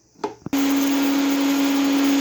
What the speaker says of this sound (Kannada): ಸೊ ಅದನ್ನು ಗ್ರೈಂಡ್ ಮಾಡ್ಕೋಬೇಕು ಮಿಕ್ಸಿಗೆ